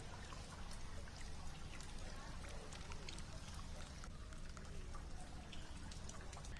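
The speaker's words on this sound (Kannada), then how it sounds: "ಮಳೆಯ ಅಬ್ಬರಕ್ಕೆ ಫಲ್ಗುಣಿ ನದಿ ಉಕ್ಕಿ ಹರಿಯುತ್ತಿದೆ" Heavy monsoon rain falls as the Phalguni river in Dakshina Kannada overflows, giving a continuous low rushing and pattering of water that stays fairly faint but steady.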